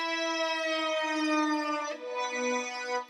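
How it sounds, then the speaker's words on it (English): A sustained synthesized French horn tone with rich harmonics swoops in pitch, sliding down and back through a dramatic bend. "this French horn plays something really cool. It has a massive pitch bend."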